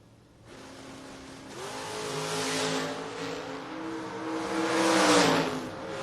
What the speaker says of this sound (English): Randy Davis, 478 dial-in for the 92 Camaro out of Stafford, Virginia.